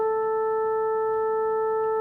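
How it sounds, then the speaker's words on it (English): Steady synthesized chord built from several added pure sine tones, including a sixth harmonic, sounding as a clean, constant hum of stacked partials held for two seconds with no other sound. "so it's becoming sort of a real sound, okay? And it comes from adding the pure tones."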